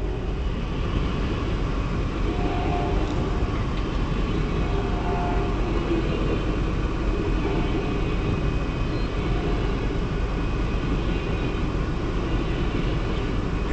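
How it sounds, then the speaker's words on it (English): An Amtrak passenger train rolls past in Portland, Oregon, a constant broad rumble of wheels and engine that stays loud and even throughout, with no voices over it. "Amtrak in Portland, Oregon."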